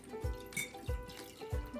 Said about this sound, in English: We're gonna pour our cold water into the other mug